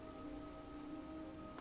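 Steady rain hisses down in the Skyrim game world, a continuous wash of falling drops with faint tonal game ambience humming beneath it and no voices.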